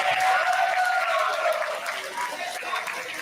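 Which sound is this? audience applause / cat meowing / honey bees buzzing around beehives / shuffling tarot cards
audience applause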